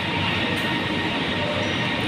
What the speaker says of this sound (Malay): naik LRT.